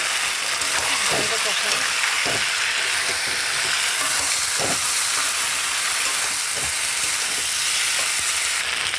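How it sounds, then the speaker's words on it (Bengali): Ground spices fry with onion in hot oil in a pan, a dense steady hiss with scattered scraping and knocking stirring sounds. "মশলা দিয়ে দিচ্ছি,"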